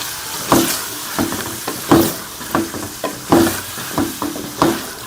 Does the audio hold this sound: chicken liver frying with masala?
yes